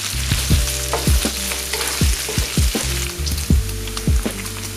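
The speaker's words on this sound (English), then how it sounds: "now I'm going to go ahead and add in my bacon" Bacon fries in a pan over medium-high heat with a steady crackling sizzle, broken by repeated sharp scraping and stirring clatters from a utensil against the pan.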